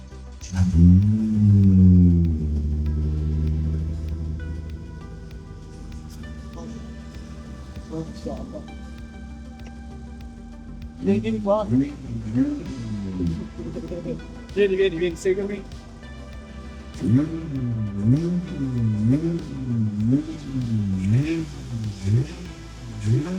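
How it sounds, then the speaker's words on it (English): At a Tokyo car show, a modified car's engine starts and revs repeatedly, giving loud rising and falling roars with a rough idle between bursts and voices talking nearby. "He's about to turn on the engine."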